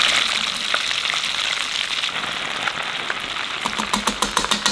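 Cheesy potato balls fry in oil, giving a steady, close sizzle and crackle throughout, with a few sharper pops toward the end.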